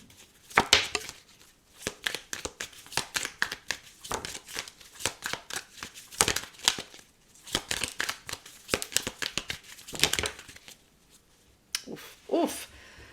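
A deck of tarot cards being shuffled by hand, quick riffling, slapping bursts that run almost continuously and close by, with only a few brief pauses and no talk.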